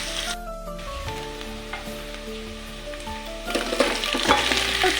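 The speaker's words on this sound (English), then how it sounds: "I fried potatoes with onions and tomatoes" Potatoes fry in a pan with onions and tomatoes, giving a continuous crackling sizzle that grows louder and busier near the end, with no one speaking.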